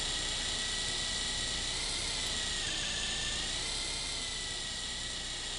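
Model helicopter in a flight simulator game, a steady loud rotor and turbine whine with a high buzzing hum that holds constant throughout, slightly shifting in pitch midway, with no talk.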